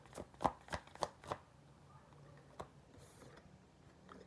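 Tarot cards are shuffled in a quick run of crisp riffling snaps, then a softer scattered patter fades to a few faint ticks, all quiet and close, with no talk.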